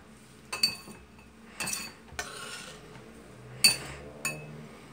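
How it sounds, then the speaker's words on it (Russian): Knife chopping fresh basil on a board while making sun-dried tomatoes, heard as about six separate crisp clinking chops spaced irregularly, close and fairly clear over quiet kitchen background. "Режу базилик."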